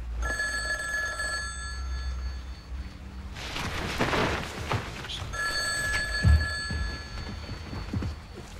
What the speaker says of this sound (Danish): Man kan jo ikke bare lade sådan en telefon ringe, vel?